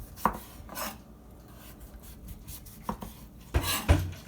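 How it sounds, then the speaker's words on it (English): A kitchen knife cuts around the curve of a butternut squash, giving a few sharp, separate crunching chops spaced apart, with louder strokes near the end and quiet between them. "bring your knife around the curve of the squash"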